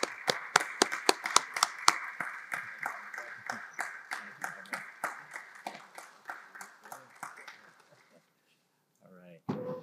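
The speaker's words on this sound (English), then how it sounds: "Can you help me give a round of applause for Mr." An audience applauds a speaker at the Freedom Lecture, with dense, steady clapping that fades out after about eight seconds, followed by a brief voice.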